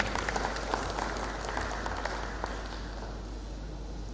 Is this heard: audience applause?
yes